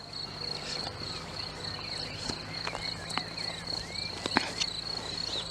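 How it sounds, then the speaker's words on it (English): Steady high cricket chirping fills the background, a continuous shimmering trill with a few faint scattered knocks and rustles nearby. "And the crickets are all starting."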